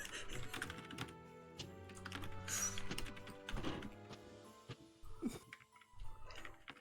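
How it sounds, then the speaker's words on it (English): Steady typing on a computer keyboard, a close, quiet run of clicking keystrokes with an irregular rhythm, heard alone without talk. "I love that during all of this, I could just hear Penny typing."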